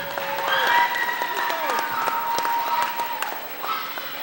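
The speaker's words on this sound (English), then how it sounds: "Big round of applause for Felicia Fifi Weatherspoon." Crowd applause fills a gym during senior night at a girls' varsity basketball game, Lorain versus Warrensville Heights, with steady, fairly loud clapping, scattered cheers and sharp tones over a murmur of voices.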